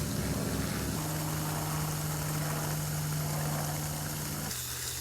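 Propeller airplane passing overhead in a Florida garden, a steady droning engine hum with a strong low tone that holds for several seconds before shifting as the aircraft moves away; no voices.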